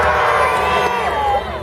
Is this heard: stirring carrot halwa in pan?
no